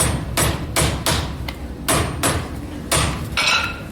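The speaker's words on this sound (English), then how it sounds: "I come in with the round side of my hammer, and I just kind of go lightly to begin with" A farrier's hammer, swung with its rounded face, taps a pad onto a horse's hoof in a series of sharp, close strikes, some lighter and some firmer, with uneven gaps between blows.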